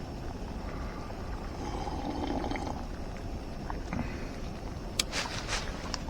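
Leftover water from cooking chocolate pudding is poured out of a camping pot outdoors, a steady, soft splashing pour that lasts several seconds, with a couple of light knocks near the end.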